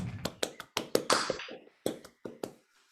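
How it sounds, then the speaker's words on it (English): An audience of a few people claps together after a Krishna book reading, giving a handful of sharp, close, irregular claps over about two seconds that then die away into quiet, with no talking over them. "Give yourselves a big clap."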